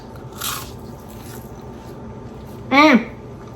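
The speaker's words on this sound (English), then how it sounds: "Listen to that crunch." Someone bites into a crispy puff pastry twist coated in cinnamon sugar, giving one sharp, brief crunch up close after a quiet stretch with a faint earlier rustle.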